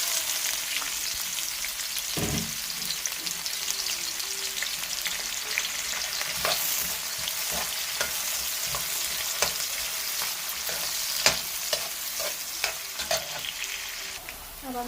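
Onions fry with whole garam masala for beef karahi, a steady loud sizzle and crackle throughout, with occasional scraping and clinks of a stirring spoon against the pan.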